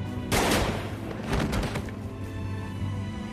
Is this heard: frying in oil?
no